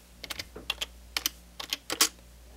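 Keys clatter on a computer keyboard as a Linux command is typed on an Android device, a quiet close burst of separate clicks in short clusters with small pauses, no voice.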